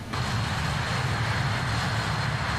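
Jet engines of a BAe 146-300QT freighter in Microsoft Flight Simulator, heard from outside the aircraft as a loud, steady roaring drone with a low rumble, continuous and unbroken.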